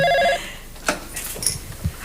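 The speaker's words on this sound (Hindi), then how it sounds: "पहली टेलीफोन कॉल आ भी गई, उठाइए" An office telephone rings once in a short bright double trill, then stops as someone picks it up, leaving quiet handling clicks and light movement.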